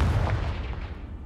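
A Confringo fire spell explodes in the Hogwarts Legacy video game, a loud, booming blast with a deep rumbling body that decays over about a second.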